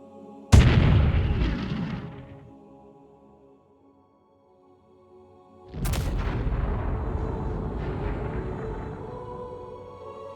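Two massive artillery guns fire as a documentary sound effect, each a deep booming blast followed by a long rumbling roll, spaced about five seconds apart with a quiet gap between.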